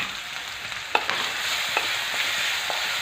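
Green chilli paste (thecha) sautés in hot oil with mustard seeds, curry leaves and cumin, giving a bright, continuous sizzle broken by a few sharp spatters and pops, with no voices.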